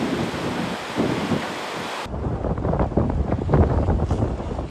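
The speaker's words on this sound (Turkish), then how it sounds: "Kaş'ta da dalgalar biri ekip otosu iki aracı böyle yuttu." Storm-driven sea waves crash onto the shore at Kaş, Turkey, a continuous loud roaring wash mixed with heavy wind buffeting, with an abrupt cut partway through and no voices.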